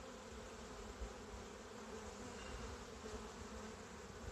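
Gentle honey bees fill a spring hive inspection with a steady, close, continuous buzzing drone that holds evenly throughout, with no voices.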